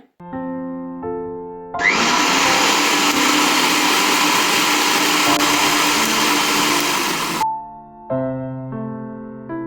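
A mixer grinder roars loudly for several seconds as it grinds onions, close up, between stretches of soft background music before and after.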